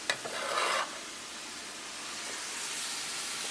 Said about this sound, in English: Give this a few minutes to continue to saute all of this together